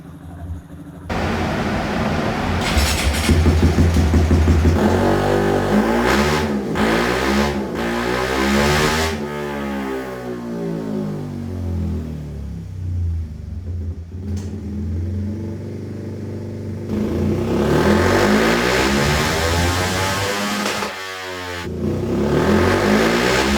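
A Honda CBR motorcycle bored up to 180cc runs close by with no talking, its engine note rising and falling through several revs before settling toward a steady idle.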